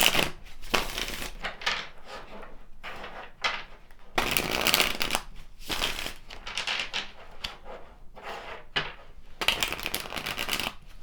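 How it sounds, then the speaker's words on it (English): Tarot cards are shuffled up close in repeated bursts, each a crisp riffling rush broken by short pauses, about eight rounds in a row. "We'll pull some more tarot here."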